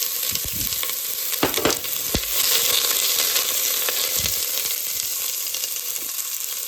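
Olive oil sizzles and spits in a hot pan with a loud continuous frying hiss and a few knocks and scrapes early on, without any speech.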